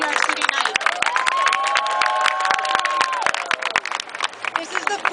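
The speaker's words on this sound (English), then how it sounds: "let's give everybody here a real round of applause for coming out on a yucky New York City night" An indoor audience at a domestic violence awareness event in New York City claps and cheers in a loud, dense burst of applause, with a voice carrying over the crowd.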